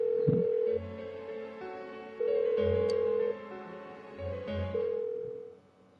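Within the Persona 4 Golden video game, a phone rings on with no answer: two-tone ringback pulses repeat in slow, evenly spaced bursts, moderately quiet, with no one speaking.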